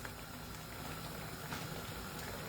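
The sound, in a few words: boiling protein: fish, chicken and stockfish in a pot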